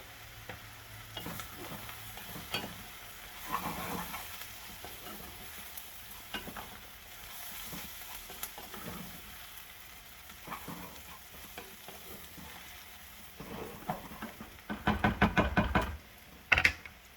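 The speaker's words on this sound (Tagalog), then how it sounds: "Tapos mayroon din tayo ditong garlic. So, gisa-gisa lang natin." Garlic sizzles softly in a frying pan while a utensil stirs it, with repeated scraping and knocking. A louder burst of frying and clatter comes near the end.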